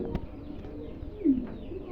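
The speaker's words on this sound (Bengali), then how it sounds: "এটা মাদি কবুতর" A female breeding pigeon, a laying hen at a fancy pigeon farm, gives a soft low coo, close by, with a brief sharp click near the start and quiet room noise around it.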